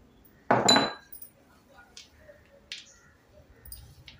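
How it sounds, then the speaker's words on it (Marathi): Whole peanuts being mixed by hand into a ground sesame and jaggery ladoo mixture in a metal plate, one loud clattering scrape followed by a few faint clinks and light taps. "आता याच्यामध्ये अख्खे शेंगदाणे मिक्स करूया."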